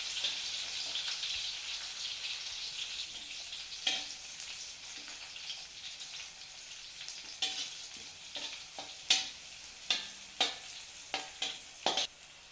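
Finely cut green chillies and garlic frying in oil over a high flame for veg noodles, a soft continuous sizzle broken by a run of sharp stirring scrapes and knocks that grow louder toward the end.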